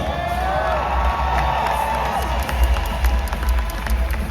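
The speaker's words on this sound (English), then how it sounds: "Round of applause." A live audience at a Critical Role show during C2E2 in Chicago cheers and applauds, a dense steady wash of clapping with scattered whoops throughout, with no voices standing out above it.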